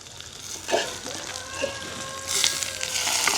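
Curry leaves and pandan hit hot oil with softened onion and green chili in a village kitchen, giving a steady crackling sizzle with sharper pops and faint stirring, fairly close.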